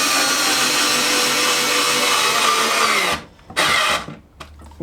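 A small Aldi Workzone 3.6V cordless screwdriver whirs steadily as it drives a screw through plywood into pine without a pilot hole, then stops abruptly and gives a few short, stuttering bursts.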